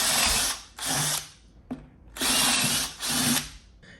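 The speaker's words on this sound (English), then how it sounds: "today we're going to review the Ryobi 18 volt 1 plus half-inch drill driver" A Ryobi 18V ONE+ P215 half-inch cordless drill/driver whirs in four loud bursts of a few seconds each, with brief pauses between, close up and with no talking.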